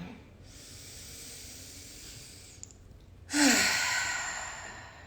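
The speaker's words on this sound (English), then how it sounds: "Let's take a few deep breaths." A slow, deep breath during a guided meditation: a long, soft airy inhale followed by a louder, rushing exhale, close and alone without talk.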